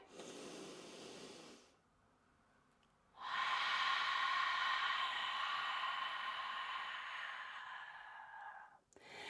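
Long, steady exhalations through the mouth during a yoga breathing exercise: a soft breathy rush, a pause of near silence, then a longer sustained breath out lasting several seconds, close and quiet, with no talking.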